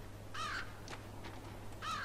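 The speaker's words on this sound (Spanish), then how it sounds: "Un cuervo." A crow cawing in the dark puzzle game Limbo, two harsh raspy caws spaced about a second and a half apart over a faint low hum, with a few soft clicks between them.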